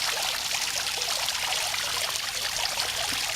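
Water drips and streams off the rim of a fountain's lower bowl, a steady, close, unbroken trickling splash that holds an even level throughout with no voices.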